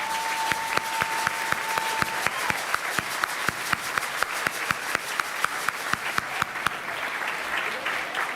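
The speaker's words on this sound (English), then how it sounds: "I just want to have them applaud you" A large audience at Sonia Sanchez's 90th birthday celebration applauds the standing Wintergreen Women with steady, sustained clapping, dense and even throughout, a faint tone heard briefly at the start.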